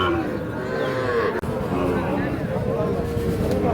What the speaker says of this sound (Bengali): এইখানে একটা শাহিওয়াল ষাঁড় বাচ্চা দেখছিলাম